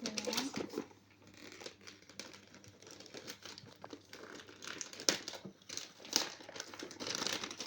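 Gift wrapping paper is crinkled and torn while presents are unwrapped, a continuous close rustle with sharp rips and crackles, with no talking.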